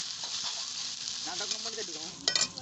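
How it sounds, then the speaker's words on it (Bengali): Chopped onions and whole cumin seeds frying in oil at a village-style night picnic, a steady close sizzle with stirring scrapes and a brief louder spatter near the end. "দিয়ে দিচ্ছি গোটা জিরে দিয়ে দিচ্ছি কুচি করে রাখা পেঁয়াজ"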